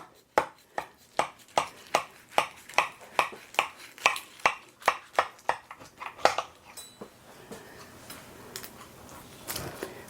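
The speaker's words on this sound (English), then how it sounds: "So I want to start by cutting it into sections" A knife cuts a ground beef casserole into sections, a run of about eighteen sharp, evenly spaced taps against the dish over eight seconds, then a few scattered softer scrapes and knocks.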